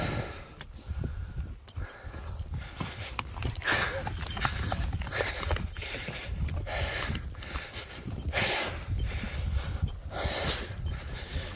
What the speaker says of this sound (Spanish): Estos caballos.